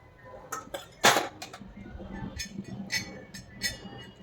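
A spoon scrapes and clinks against a hot iron griddle in quick, irregular strokes while turmeric powder is stirred and roasted nearby.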